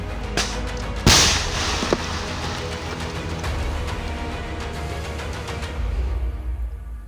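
A Stugna-P anti-tank guided missile launching, a sudden sharp blast followed by a sustained rushing roar that fades gradually over several seconds amid outdoor noise.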